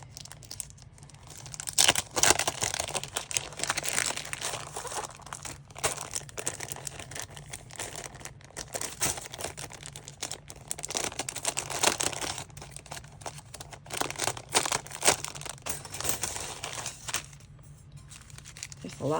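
Plastic packaging for a craft die set crinkles and tears in bursts of crackling rustle as it is pulled open by hand, close and fairly loud, continuing through most of the stretch.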